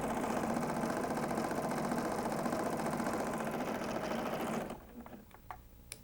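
A serger stitches quilt fabric strips, running in one continuous loud, fast whir for several seconds before stopping abruptly, followed by faint handling clicks.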